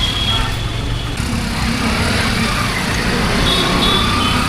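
Busy road traffic in India with a vehicle coming through on the wrong side, a dense continuous rumble of engines and tires close by, with a faint high horn-like tone near the end and no talk.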